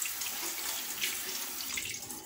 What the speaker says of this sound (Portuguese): Deixa eu dar uma enxaguada nele aqui. Enxaguar a tábua também.